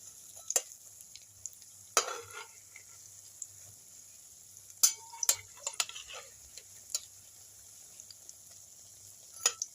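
A paneer snack fries in oil and is turned over in the pan, giving a faint, thin sizzle with sparse sharp clicks and taps from the utensil scattered throughout, quiet and unaccompanied by speech.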